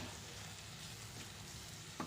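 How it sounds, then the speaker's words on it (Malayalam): A khatta mitta mixture is stirred in a hot pan, a continuous soft sizzle with faint scraping under it and one brief clink near the end. "എന്നിട്ട് നമുക്കിത് യോജിപ്പിച്ച് കൊടുക്കാം."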